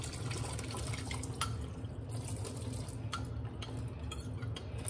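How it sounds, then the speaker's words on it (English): Water being dumped out of a bowl of spicy instant noodles, heard as a steady close trickle and drip that runs continuously without talk. "got my noodles in my bowl and I have to dump out the water"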